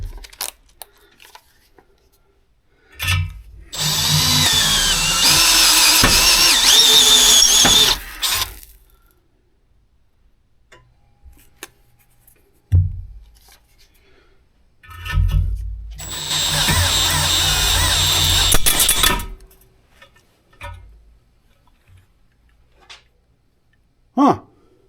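A power drill with worn bits grinds into stainless steel exhaust material in two long bursts of harsh whining and screeching, separated by quiet pauses and small clunks.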